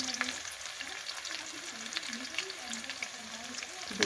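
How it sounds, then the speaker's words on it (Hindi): Chopped onion frying in a hot pan, giving a steady close sizzle and crackle that runs without a break. "अब मेरा प्याज भून रहा है।"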